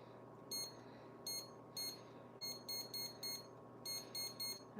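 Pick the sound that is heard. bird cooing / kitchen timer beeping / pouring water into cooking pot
kitchen timer beeping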